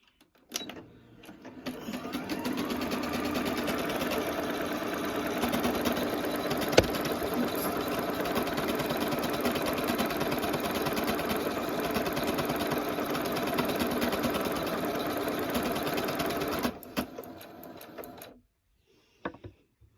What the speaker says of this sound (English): so we'll get the machine sewing.